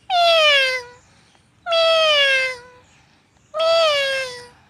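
Three drawn-out, falling meows from a man mimicking a cat, evenly spaced, loud and close against a quiet background.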